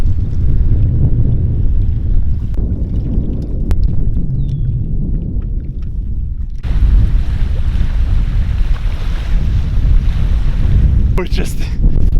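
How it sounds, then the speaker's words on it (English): Strong wind roars steadily against the microphone on a pond shore, with lapping water beneath and a few faint knocks. "It's really windy."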